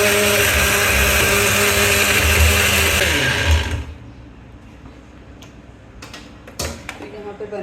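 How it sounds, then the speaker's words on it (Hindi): A kitchen grinder whirs loudly and steadily as milkshake ingredients are blended for several seconds, then shuts off, followed by quiet handling clicks and knocks. "तो अब जो है इसको ग्राइंड कर लेंगे।"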